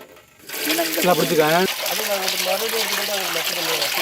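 Water gushes in a steady, loud rush that starts after a brief quiet moment and continues throughout, with people talking over it.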